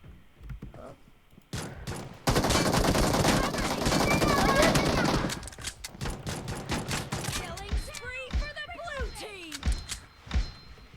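Rapid gunfire bursts from a video game, with pistol shots, a dense loud volley in the middle and scattered single shots around it, as a player talks and reacts over the action.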